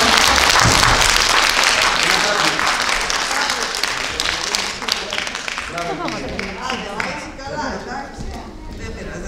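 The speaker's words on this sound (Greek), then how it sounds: "Έλα να χειροκροτήσουμε την Φραγκούλα." Dense applause from an audience at a school award ceremony for students in Lesbos, loud and sustained throughout, thinning slightly toward the end with scattered claps and some voices.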